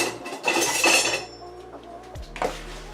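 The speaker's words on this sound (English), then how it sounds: "So I'm mixing the sugar, the baking soda, the salt, and the flour all together." A spoon clinks and scrapes in a bowl while mixing sugar, baking soda, salt and flour for a lemon cake, a busy burst of clatter early on, then quieter scraping and a final clink, close and fairly loud.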